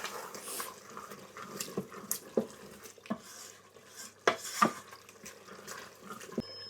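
A spoon stirs lamb mince and okra with coriander in a pot, scraping and clinking against the metal in irregular strokes at a low, steady level, with a few sharper knocks standing out.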